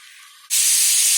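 Okra and onion sautéing in a pan, a steady loud sizzle that jumps up abruptly halfway through after a quieter hiss, continuing as a dense frying crackle with no talk.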